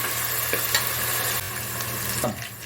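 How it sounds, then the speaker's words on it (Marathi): Handful of cashews frying in hot oil with cumin for Maharashtrian wedding-style masale bhaat, a steady close sizzle with stirring scrapes and a brief dip midway. "बरोबरच काजू पण तळून होतील"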